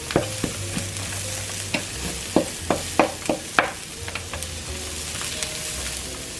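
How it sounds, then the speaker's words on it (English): Garlic frying in a pan over medium-low heat, a steady soft sizzle broken by repeated sharp clicks and scrapes of a utensil stirring, loud and close with no talking. "So now I'm letting this garlic go a little bit so it can cook up."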